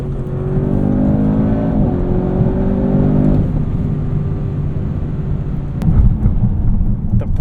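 A 2024 Audi RS7 with its 4-liter V8 in RS2 mode accelerates hard, a loud, close engine roar climbing in pitch through the gears with brief dips at the shifts.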